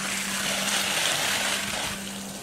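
Water rushes steadily out of the end of a pool vacuum hose in a continuous broadband gush with a low pump-like hum underneath, close and fairly loud, no voices.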